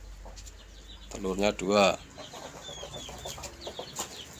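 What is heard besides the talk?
hen clucking while laying eggs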